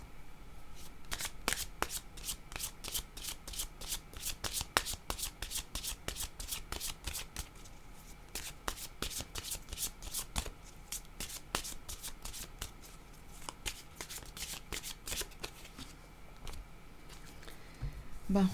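A deck of playing cards being shuffled repeatedly, quick rapid riffles and snaps in close succession for a long stretch, crisp and near, with no voices over it.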